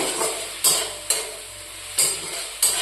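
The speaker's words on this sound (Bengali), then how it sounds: "টমেটো এখনো গলেনি আবার একটু নেড়ে চেড়ে নিয়ে" Chopped tomatoes frying in a pan are stirred in about four distinct scraping strokes, each a sharp rasp over a low, steady sizzle.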